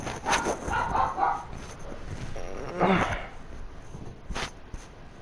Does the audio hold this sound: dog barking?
yes